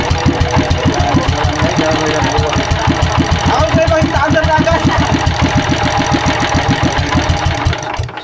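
Small engine turning over but failing to start or rev properly, with a rapid, steady chugging knock pulsing loudly and close up for several seconds before cutting off.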